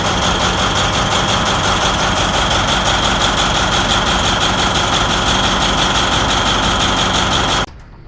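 A 3,550-horsepower, 24-cylinder Caterpillar diesel engine runs steadily at high power in a factory, a dense continuous rumble and clatter close by, stopping abruptly near the end.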